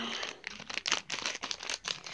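Scissors cut open a Tsum Tsum blind bag, giving close, crinkly plastic rustling and crackling in quick irregular bursts.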